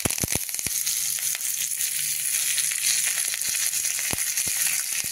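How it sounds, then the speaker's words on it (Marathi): Curry leaves dropped into hot oil in a pan with red chillies, a loud, steady crackling sizzle with sharp pops at the start and a few more later, close by and heard alone without speech. "आता टाकू कढीपत्ता"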